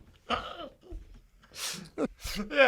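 A few short coughs and throat-clearing bursts from one person nearby, spaced irregularly with brief breaths between them in an otherwise quiet room.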